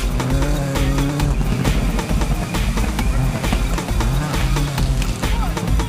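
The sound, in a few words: race car launching off the line at speed event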